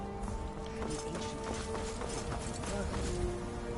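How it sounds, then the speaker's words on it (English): A horse's hooves clip-clop in a steady running rhythm in the video game Skyrim, with a voice talking over the hoofbeats. "There's a horsey."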